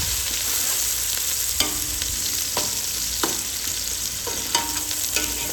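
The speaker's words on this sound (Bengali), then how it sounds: "একটা পাতিলে কিছু তেল দিয়ে পেঁয়াজ দিয়ে দেব। তারপর পেঁয়াজগুলোকে নাড়াচাড়া করে" Onions frying in oil in a pot for a rohu fish and potato curry, with a steady sizzle and repeated scraping stirs of a spoon about once a second, close and without talk.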